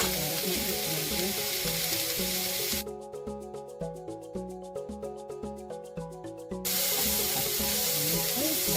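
Garlic and ginger fry in a pan for veggie fried rice, a loud steady sizzle with a rhythmic scraping stir in the middle stretch.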